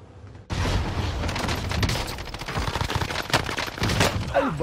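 Rapid RAM-7 rifle fire in a video game, a dense loud stream of automatic shots with short pauses between bursts, close and continuous.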